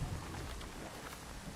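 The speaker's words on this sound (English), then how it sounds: "It's raining." Steady rain falls in the survival video game Nightingale, a soft continuous hiss with a low rumble underneath, heard alone at a fairly quiet level.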